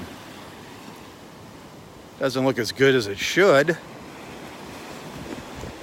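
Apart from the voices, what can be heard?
ocean waves on beach in North Naples, Florida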